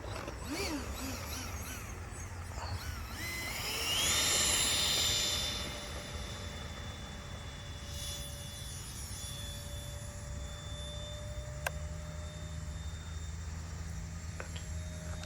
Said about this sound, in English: We'll do another slow flyby. So just regular half throttle,